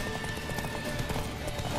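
Horse hooves clip-clopping in the video game The Witcher 3, a steady rapid gallop of hoofbeats that runs throughout the clip at a moderately loud level.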